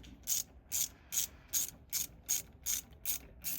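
A ratchet clicks in eight or nine evenly spaced bursts while tightening parts on a Foxbody car, each crisp and close, with no talk over it.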